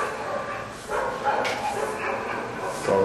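Dogs bark and yip intermittently in a home, several short barks scattered over a few seconds, mixed with people talking and background noise.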